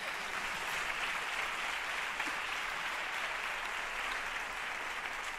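Steady, dense audience applause fills a gala inauguration hall celebrating women's rights in Málaga, a continuous even wash of many hands clapping with no voices on top.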